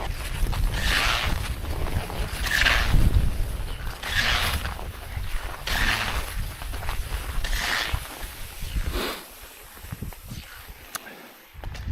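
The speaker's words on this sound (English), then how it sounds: "here you can feel the wind." Wind gusts outdoors near a woodpile, a low rumbling buffet against the microphone that fades toward the end, accompanied by a regular series of footstep-like thumps.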